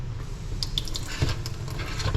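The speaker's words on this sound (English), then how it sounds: "I get a nice little stream of water going" A thin stream of water runs into a bucket during weekly car-wash maintenance, a steady close trickle with small splashes and drips and no talking.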